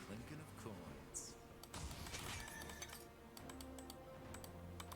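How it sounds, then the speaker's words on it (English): Coins in League of Legends clink in a few bright, scattered metallic chinks over game sounds, with a voice talking now and then. "Clinking of coins."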